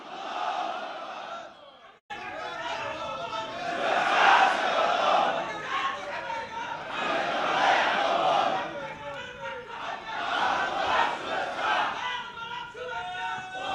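A large crowd at an Islamic scholars' conference chants Allahu Akbar in loud, repeated waves in reply to a takbir call, with a short gap before the first roar and voices swelling throughout.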